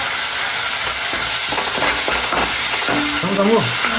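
Tomato keema fries loudly in a hot pan, a dense, continuous sizzle with stirring scrapes, and a brief voice rises near the end.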